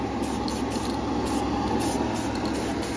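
An aerosol can sprays light coats of paint onto a Tamiya Mercedes G320 Cabrio lexan polycarbonate body, a close, continuous hiss with brief pulses as the nozzle is pressed.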